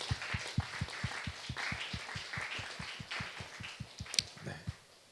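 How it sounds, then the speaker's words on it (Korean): A church congregation claps together in a steady rhythm during a Saturday worship service, a sustained round of even, moderately loud applause lasting several seconds with no talking over it. "우리 서로를 응원하면서 격려하는 박수를 한번 좀 보내볼까요?"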